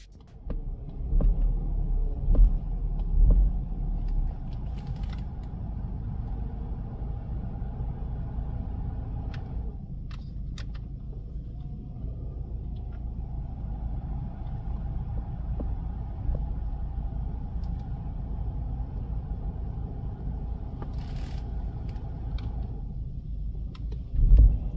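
BMW X3 F25 28i with a whining AC compressor under the hood, a steady low engine rumble and hum running continuously, with a faint whine layered on top and a brief dip partway through.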